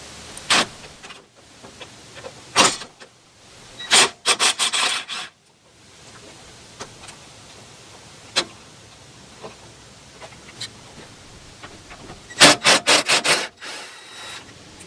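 A ratchet wrench loosens the 8mm bolts holding the electric fan on a Jeep Cherokee XJ. It makes close, dry rasping clicks in short clustered bursts, with quiet stretches and a few isolated clicks in between.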